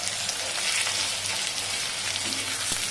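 Onion sizzles in hot oil in a pan left from frying prawns for a Koli-style chilli dry, a loud, steady, dense hiss with no break, close up.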